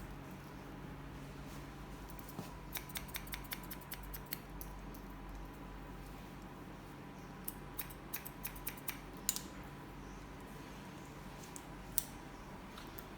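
Quiet, rapid snipping of scissors cutting a short bob haircut in short bursts, with light clicks over a steady low background hum.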